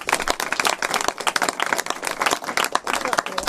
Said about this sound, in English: So a huge round of applause for the Majority Leader and for the Women's Caucus